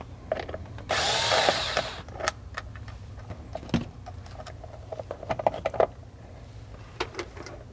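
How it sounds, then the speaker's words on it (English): A power drill whirs in one loud burst of about a second while backing Phillips head screws out of the upper steering column shroud on a HISUN 500-700cc UTV, followed by scattered light clicks and taps of parts and tools. "remove the 3 Phillip head screws for the upper shroud of the steering column"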